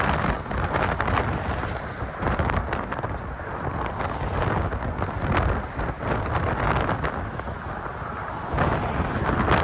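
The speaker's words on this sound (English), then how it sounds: "But usually it is kind of windy like this." Strong wind buffets the microphone while walking across the Golden Gate Bridge, a steady loud roar with gusty rumbling surges and faint traffic beneath, no voices.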